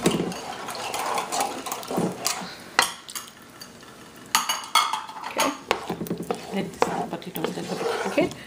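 Potatoes are stirred in a pot for a Gujarati muthia dish, with a spoon scraping and clinking against the metal in irregular strokes alongside faint frying sizzle, under a person talking.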